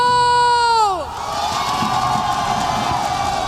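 A large crowd cheering and whooping at a live PUBG esports event in Paris, swelling after a falling synth tone and continuing as a dense, steady roar.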